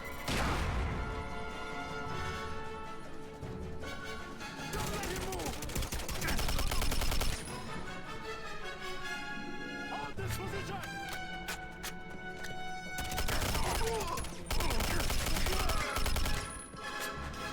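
Gunfire in the Quantum of Solace shooter game, dense continuous volleys of shots and impacts over music and game noise, with someone talking throughout.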